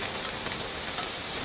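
Hot food stirred in a frying pan sizzles loudly and continuously, a bright crackling hiss with small scraping bumps from the stirring.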